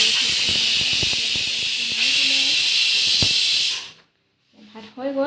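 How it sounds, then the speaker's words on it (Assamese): Local chicken fries in a pan with a loud, continuous sizzling hiss that cuts off abruptly after about four seconds. A voice follows briefly. "এতিয়া ভাজি কৰি আছে"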